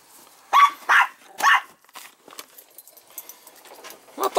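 A dog in a home basement barks several times close by in short bursts, with quieter jangling and handling noises between barks.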